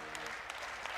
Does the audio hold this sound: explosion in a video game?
no